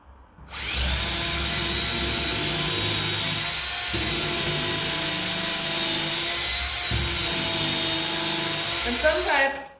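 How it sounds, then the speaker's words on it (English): A power drill bores holes into a wood block for a mason bee house, running loud and steady with a high whine for most of the stretch, with two short dips in load as the bit is pulled back out. "you can do what I was just doing by drilling in a little bit, pulling it out to remove some of the wood"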